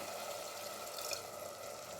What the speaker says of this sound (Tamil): இப்போது இதில் ஒரு அரை கப் தண்ணி சேர்த்துக்கிறேன்